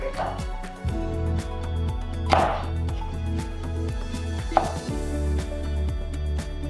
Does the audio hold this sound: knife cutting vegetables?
yes